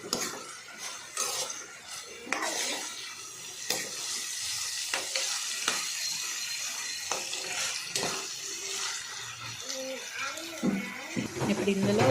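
Peas and green chillies go into frying onions in a pan, giving a sizzle with stirring scrapes and spoon clinks that continue throughout, with occasional talking.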